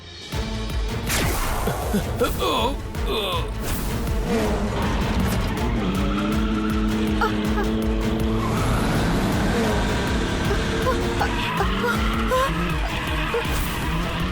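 A cartoon tanker truck speeding at full throttle, with a continuous loud engine roar and repeated screeching tire skids rising and falling throughout.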